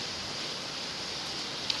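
Morning rain falls steadily outside, making a soft, even hiss with no clear individual drops and no talking.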